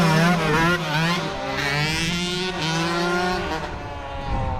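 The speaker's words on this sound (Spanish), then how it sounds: "Mira aquí la moto." A small children's motorbike revs hard and close by, its high engine whine climbing and falling in steady pulses without a break, with crowd noise underneath.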